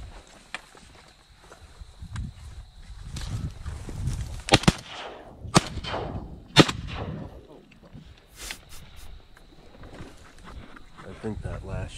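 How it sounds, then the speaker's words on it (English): Several sharp shotgun blasts crack out during a public-land teal hunt, a few in quick succession near the middle, loud and close, with hunters talking and moving around between shots. "I think that last shot might have been a little excessive, Joshua."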